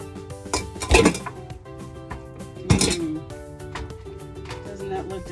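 Drained al dente tortellini tipped into a pan for a creamy chicken dish, landing with two loud clinking, clattering bursts of metal and utensils about two seconds apart over a busy kitchen background.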